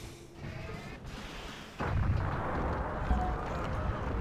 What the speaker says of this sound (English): And yeah, still shoot at the city.